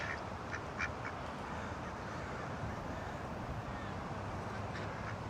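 Ducks quack faintly in the distance over steady outdoor background noise and wind, with a few brief calls near the start and scattered softer ones later.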